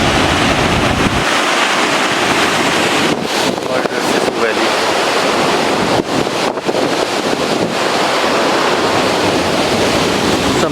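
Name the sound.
glacier meltwater stream flowing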